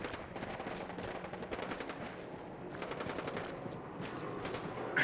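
Steady, dense gunfire from the video game Fallout 4 runs through the whole stretch as rapid, overlapping bursts with no speech.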